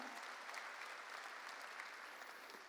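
A church congregation claps together in a steady, even wash of applause that holds at a moderate level without pauses.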